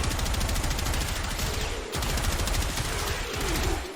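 Rapid, sustained automatic gunfire from the Gotva Prime rifle in Warframe, dense and loud with only brief pauses between bursts.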